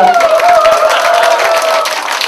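Audience clapping at a youth festival stage performance by an army band, steady and fairly close, with a sustained tone ringing above it throughout.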